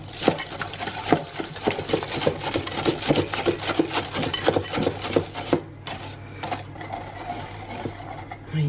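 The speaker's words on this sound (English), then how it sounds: "just whisk till you've got a lovely batter" Eggs and vanilla being whisked by hand into gluten-free white chocolate blondie batter, a close, steady run of quick scraping strokes against the bowl with no talking.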